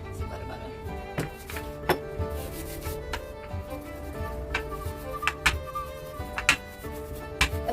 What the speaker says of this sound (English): I'm gonna scrape down the butter